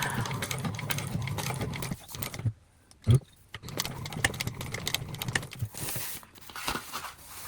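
A sewing machine stitches a pocket onto a bag with a close, rattling, mechanical run, broken by a brief pause and a sharp knock before the stitching resumes.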